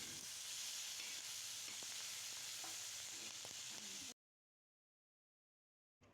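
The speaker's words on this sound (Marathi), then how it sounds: "तेलावरती हे सर्व जिन्नस व्यवस्थित परतवून घ्यायचे आहेत." Spices and ingredients for thecha sautéing in oil, a dense steady frying hiss with faint stirring scrapes, cutting to silence partway through before the sizzle briefly returns.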